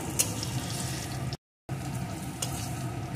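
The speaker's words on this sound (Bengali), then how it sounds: "পেঁয়াজ কুচিটাও একটু ভেজে নেব।" Chopped onions sizzle and fry in a pan, a steady close crackling hiss that continues without pause apart from a brief cut to silence.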